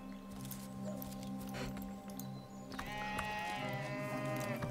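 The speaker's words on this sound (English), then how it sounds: "Did you see that sheep?" Sheep bleating in the video game Divinity: Original Sin, a few wavering cries rising over a steady bed of game ambience and music, moderately loud and without talk.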